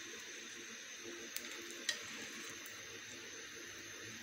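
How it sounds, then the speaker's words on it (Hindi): Leftover roti frying in a pan, a faint, steady sizzle with a couple of small clicks, heard alone at close range. "हमारी एक साइड जो है वो अच्छे तरीके से फ्राई होने वाली है"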